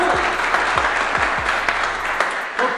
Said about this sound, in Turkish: GMG ailesine kocaman bir alkış alabilirim